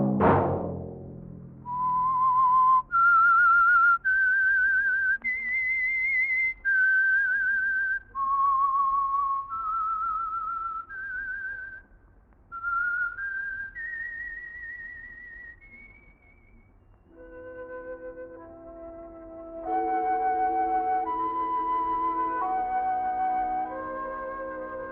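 A lone whistler carries the melodic theme of The Whistler radio mystery program, sustained notes stepping up and down in a clear tune, then backed by an orchestral chord passage near the end.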